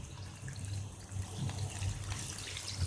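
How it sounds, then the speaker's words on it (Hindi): Water gurgles and splashes in a pot as semolina goes into boiling water with a little oil for a suji snack, a soft, continuous liquid sound with small bursts and no voices. "हमारा पानी बॉईल हो चुका है। अब हम इसमें सूजी डालेंगे"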